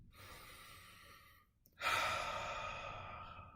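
A single deep inhale during a guided meditation, a soft drawn breath, a brief pause, then a fuller, louder breath that trails off slowly, close and intimate with no talking over it.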